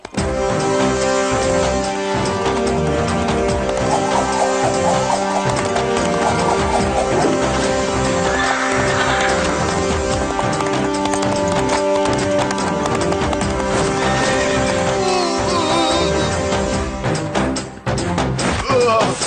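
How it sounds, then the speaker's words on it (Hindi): Horse hooves clip-clop steadily through a busy market, with a brief neigh, loud and close amid a dense mix of music and crowd commotion throughout. "जल्दी कुछ करना होगा, वरना ये घोड़ा सारे बाजार को मैदान बना देगा।"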